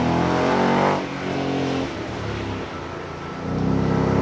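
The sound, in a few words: Ford race car accelerating on street track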